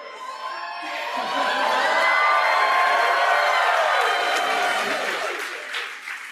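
At a medical school white coat ceremony, a large audience breaks into enthusiastic applause with cheers and whoops, swelling quickly to a sustained loud roar of clapping and then gradually tapering.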